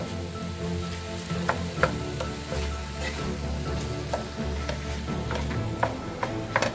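Ground meat sizzles in a home-kitchen pan as it browns, a steady crackling fry with scattered spatula taps and pops, close and moderately quiet.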